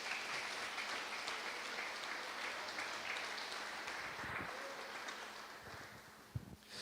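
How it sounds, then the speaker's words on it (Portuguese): A church congregation claps for Jesus during a sermon, a faint, distant wash of continuous clapping with a steady hiss and a couple of louder knocks near the end. "Bate palmas para Jesus."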